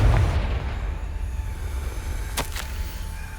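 Confringo spell blast in the Hogwarts Legacy video game: a sharp burst at the start fading into a rumbling tail, then a couple of brief bright crackles in the middle, fairly quiet overall.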